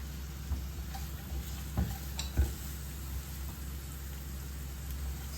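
Ingredients frying with salt in a pan give off a faint, low sizzle with a few light clicks and taps of stirring against a steady background hum.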